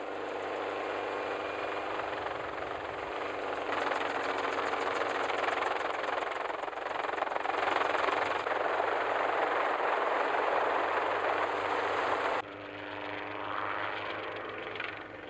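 Helicopter flying while mustering cattle in the Australian outback, a steady whirring rotor and engine drone heard at moderate distance, fading slightly toward the end.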